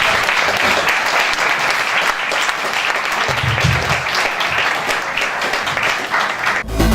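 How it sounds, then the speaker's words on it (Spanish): A loud, dense wave of applause from an audience thanking the speakers at a university radio program event, sustained and even for several seconds before cutting off abruptly, with no talk over it. "Hay que darle un fuerte aplauso"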